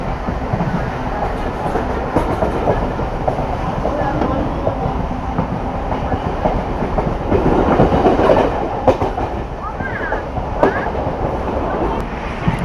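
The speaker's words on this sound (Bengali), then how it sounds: "আমাদের ট্রেন এখন ঢুকছে পায়রাডাঙ্গা" Nearly empty local train on the Sealdah line pulling into Payradanga station at night, a close, continuous rumble and rail clatter that swells briefly midway, with a few sharp clanks toward the end.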